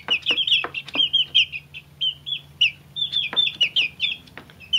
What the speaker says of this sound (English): Stay tuned for more chicken action at the chicken ranch.